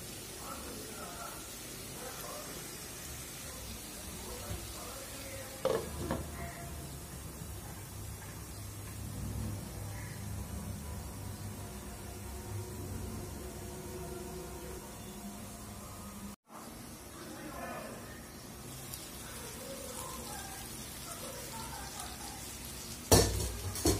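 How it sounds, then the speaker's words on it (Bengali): Eggplant frying in a pan with spice masala, a soft continuous sizzle with occasional utensil clinks and stirring scrapes, someone talking over it throughout and a sharper clatter near the end. "দুই মিনিট মশলাটা কষানো হোক, তাহলে বেগুনের ভিতরে মশলাটা ঢুকে যাবে"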